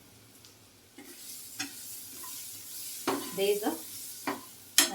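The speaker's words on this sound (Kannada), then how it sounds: "ಇದು ಸಣ್ಣ ಉರಿಯಲ್ಲಿ ಫ್ರೈ ಮಾಡ್ಕೊಳ್ಳೋಣ" Tomatoes fry over a low flame in a pan for an onion capsicum gravy, with faint sizzling under scattered scraping stirs and clinks of a spoon, growing busier toward the end; one brief spoken word.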